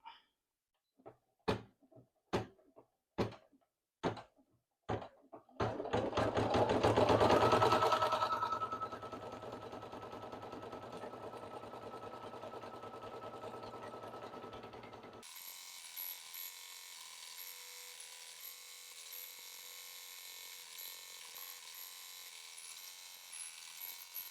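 An embroidery sewing machine stitching a faux chenille patch design. Sharp mechanical clicks come first, then a loud whirring burst, and after that a steady, fainter mechanical hum that runs on to the end.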